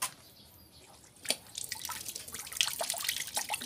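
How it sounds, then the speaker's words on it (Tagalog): Water runs from an outdoor faucet in rural Palawan as fruit is rinsed under it, starting with a faint trickle and drips, then a steady close splashing stream that grows louder and continues to the end. "Dito sa gripo."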